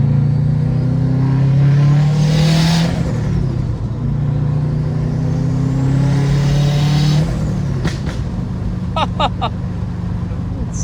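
A turbocharged Subaru WRX hatchback with an EJ25 engine cruises along the road, its low engine drone holding steady, dipping and rising again as it shifts, with whooshing passes and some brief higher clicks near the end.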